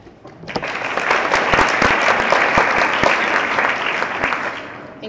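Congress audience bursting into applause after a candidate's speech, loud sustained clapping rising quickly, with individual sharp nearby claps standing out before it tapers off.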